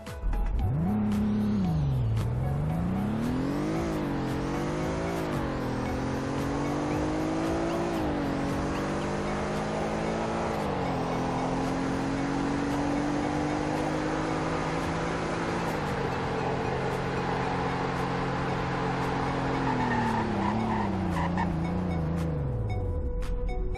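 Car in a video game accelerating hard from 0 to 100 then braking: a continuous engine roar climbing through repeated gear shifts over about twenty seconds, then winding down at the end, loud with no talk.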